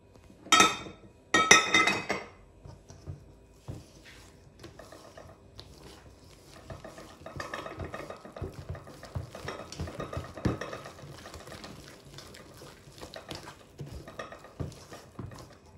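Batter is stirred with olive oil in a bowl, giving irregular scraping and clinking strokes of a utensil against the bowl, louder at first and then settling into steady mixing.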